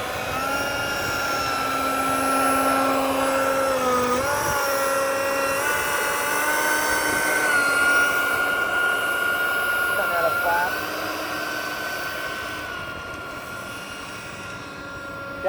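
A Durafly DH 100 Vampire Mk 6 RC model jet flies on a very windy day with flaps and rudders fitted, giving a steady whine with pitch shifts as it passes. People talk over it throughout.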